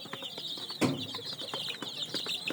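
Sonali chickens cluck and chatter in a close, busy flock, with overlapping short calls and one louder squawk near the start.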